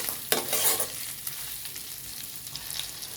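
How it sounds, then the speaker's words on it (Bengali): Tomatoes and green chillies land in a hot frying pan with a loud burst of sizzling. The sizzle settles into a steady, quieter frying hiss with light stirring. "এইবারে টমেটো, কাঁচা লঙ্কা একসঙ্গে দিয়ে দিলাম"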